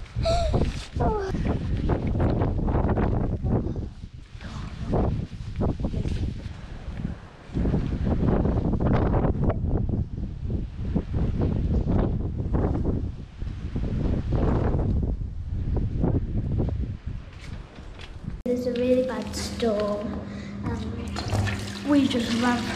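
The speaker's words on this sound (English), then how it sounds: "this is how windy and rainy it is," Strong gusting wind and rain at a UK seaside campsite during a storm, roaring buffets battering the microphone continuously, with a person talking over the noise.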